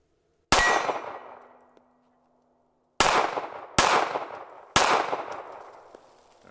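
Four sharp pistol shots from a .380 ACP handgun loaded with Norma ammunition, fired outdoors: one isolated report, then three more in fairly quick succession, each a loud crack with a ringing decay.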